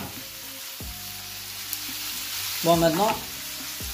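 Stir-frying in a pan with oil and soy sauce gives a steady close sizzle, with a burst of clattering, scraping stirring near the end; a voice speaks briefly in French at the start.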